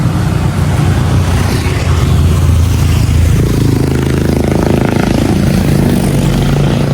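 A motor vehicle passes close by on a road, a loud rumbling engine drone with rattling that shifts in tone as it goes by, with no talk over it.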